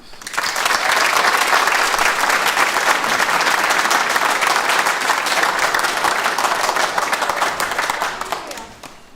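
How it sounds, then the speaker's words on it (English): A graduation ceremony crowd gives the college's graduating class a sustained round of loud, dense applause, rising quickly, holding steady for several seconds and fading at the end. "please join me in a round of applause for the City of Liverpool College University Centre Class of 2025."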